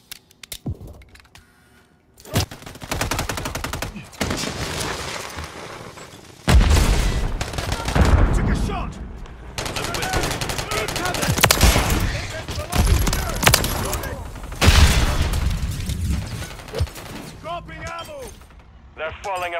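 Bursts of gunfire in the video game Call of Duty Modern Warfare 3, with rapid automatic fire and loud shots during a Hardpoint match, under in-game announcer voice lines.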